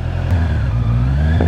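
Honda CBR650R motorcycle engine held at high revs, a loud, close, steady mechanical hum with a strong low rumble and layered harmonics, sounding alone for a brief moment.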